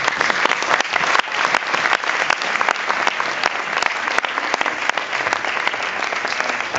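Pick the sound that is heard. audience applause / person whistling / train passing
audience applause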